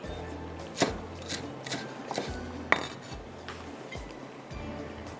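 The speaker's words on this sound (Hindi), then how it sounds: "थोड़ा सा हरा धनिया भी कटिंग कर लेते हैं जो हमने इसके साथ डालना है" Fresh green coriander is chopped with a knife on a board: irregular, fairly soft knocks and taps, close and spaced out, with no speech.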